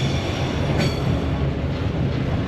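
A freight train passing a level crossing in Howard, Queensland, a loud steady rumble of rolling wheels and wagons close by with a brief squeal, no voices.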